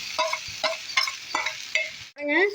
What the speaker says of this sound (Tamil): அது லைட்டாக அந்த நெய்யில் பரட்டிக்க போகிறேன்